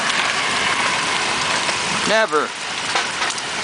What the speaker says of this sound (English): is it a coincidence that we get hail bigger than golf balls here in Lakewood?